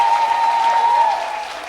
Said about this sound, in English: Give Jesus a mighty hand clap.